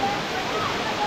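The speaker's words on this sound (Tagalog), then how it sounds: "So, running water." Running water at Kakawayan Falls in Infanta, Quezon makes a constant close broadband rush that fills the brief moment without a break.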